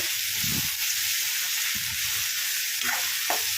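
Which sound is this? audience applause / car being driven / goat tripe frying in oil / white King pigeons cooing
goat tripe frying in oil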